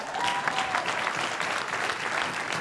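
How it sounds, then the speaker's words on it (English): Steady applause from an audience at a budget forum in a middle school, many hands clapping continuously at an even level with no voices rising above it. "Applaud that."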